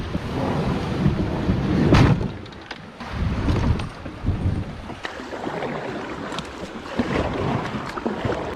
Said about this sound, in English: we're starting to get some rain, not just sprinkles